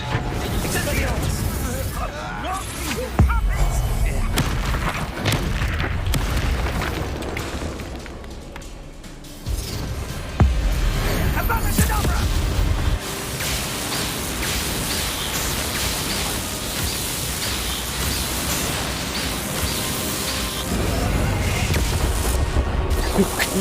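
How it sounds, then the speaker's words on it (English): An explosion in the Hogwarts Legacy PC game bursts through a dense, noisy battle mix of spell impacts and crashes, loud and broadband, with someone talking over the game sound. "Eita, o cara explodiu."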